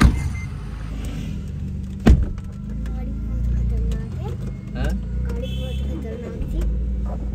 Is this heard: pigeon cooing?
no